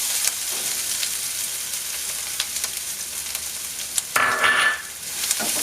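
Crushed coconut and curry leaves frying on a low flame for a raw banana stir fry, a soft continuous sizzle with occasional stirring scrapes and spoon clinks, close by.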